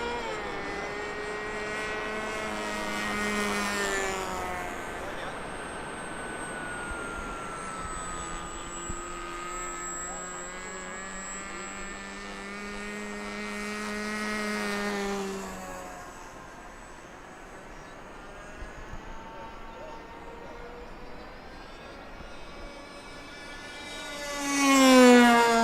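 An 1800mm T1800 RC motor glider flying overhead, its propeller motor giving a whining, pitch-shifting buzz that fades in and out as it passes, swelling loud again at the end.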